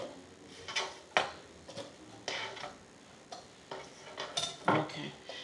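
Rough chopping of vegetables for sofrito, a knife knocking on a cutting board in a home kitchen, about a dozen uneven strokes, close and moderately loud, with no talking.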